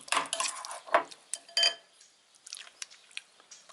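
A utensil stirs and scrapes through a bowl of aubergine dip with salt, giving soft wet squishes and light clinks in a few short, close strokes that fade into quieter taps.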